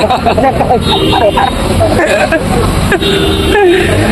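Packed Sunday market street in a small town, a dense hubbub of crowd voices and vendor chatter over passing vehicles and traffic rumble, with someone talking nearby.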